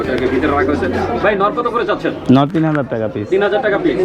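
Pigeons cooing at a busy pigeon market in Bangladesh, soft low coos running steadily under close, continuous talk from vendors and buyers.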